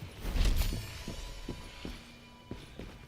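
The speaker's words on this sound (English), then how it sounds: "you'll hear the heartbeats of an enemy player next to you" A heartbeat from a stealthed player or NPC close by in the video game Mistfall Hunter, heard as soft low thumps spaced about every half second among quiet ambient game noise.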